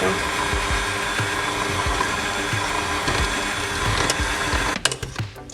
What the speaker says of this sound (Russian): у меня 450 Вт мощность миксера, я включаю на единичку, можно на двойку